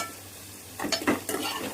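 A tempering of spices fries in a pan for upma, bursting into a short crackling sizzle with clinks of a spoon against metal, close and moderately loud after a quiet start.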